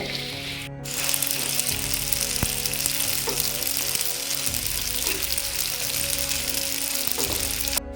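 Macaroni kurkure snack deep frying in hot oil, a loud dense sizzle and bubbling that swells after the first second and holds steady close up, with occasional clicks from the pan and no talking.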